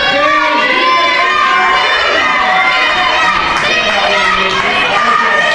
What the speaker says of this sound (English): A chant is starting by the crowd.